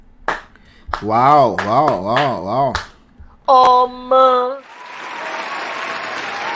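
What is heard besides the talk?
clapping and applause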